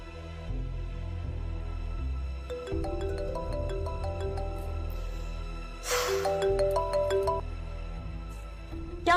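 A mobile phone ringtone plays a repeating electronic melody for several seconds, steady and moderately loud, with a brief sharp burst partway through and no talking over it.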